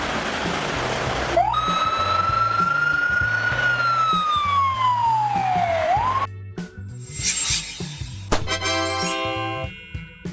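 A Bulgarian ambulance siren, on a Mercedes-Benz Sprinter, Volkswagen Crafter or Fiat Ducato, wails in a long slow rise and fall, loud and near, then cuts off into scattered jingling, rubbing noises and a rising electronic tone over a low engine throb.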